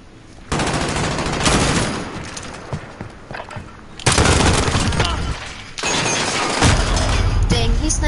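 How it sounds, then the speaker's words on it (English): Sniper gunfire in a shooter video game, loud sharp bursts of shots and impacts in dense repeated volleys across the whole stretch, with short quieter gaps between them. "Dang, he sniped me from above."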